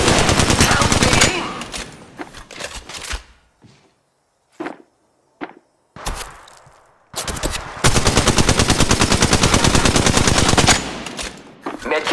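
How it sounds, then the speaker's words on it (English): Heavy automatic gunfire from Apex Legends Mobile comes loud and close in long rattling bursts. Short pauses carry scattered single shots and movement sounds, then the fire returns in a sustained stretch. "Shots fired at me."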